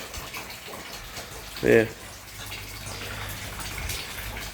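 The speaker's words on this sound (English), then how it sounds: "start to allow water to flow into the pipework" Water starting to flow into the pipework of an upgraded garden fish pond, a steady, low rushing wash running under a person's voice, with a brief louder gurgle near the middle.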